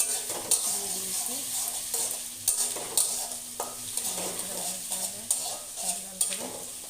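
Onion, ginger and garlic sizzling in mustard oil in a wok, a steady frying hiss broken by repeated scrapes and clinks of stirring.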